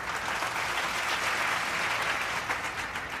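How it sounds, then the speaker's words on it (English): An audience at a community college years-of-service celebration gives a sustained round of applause for an honoree. The clapping is dense and even, holding at a steady level the whole time. "Let's have a round of applause for Dr."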